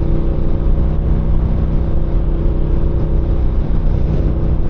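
A steady, close Ducati Diavel 1260 motorcycle engine drones on without pause, a low mechanical rumble holding roughly even throughout with no voices.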